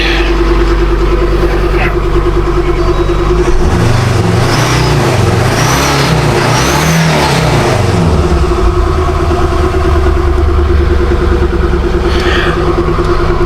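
Diesel engine of a Ford Ranger Wildtrak 3.2 idling steadily after a turbo gasket repair, a close, even hum running throughout with a brief swelling rev in the middle.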